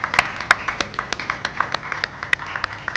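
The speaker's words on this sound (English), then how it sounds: "Can we award them with a round of applause?" Sparse, uneven hand claps from a small fashion show audience, a few sharp individual claps and snaps spaced irregularly and fairly close.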